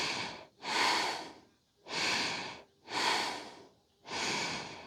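Slow, deep breaths held in an extended side angle yoga pose, four long airy inhales and exhales in a steady rhythm, close and clear with quiet gaps between them.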